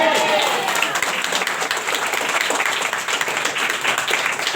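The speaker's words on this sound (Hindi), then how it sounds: "ताली बजाइए।" A church congregation claps along during a healing sermon, with dense, sustained hand-clapping filling the space and a voice speaking over it throughout.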